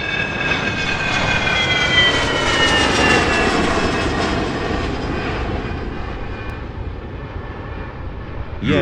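A cartoon-style airplane engine roars steadily through the whole stretch, loud and continuous with a rising whine that slowly settles, like a plane taking off, with no voices.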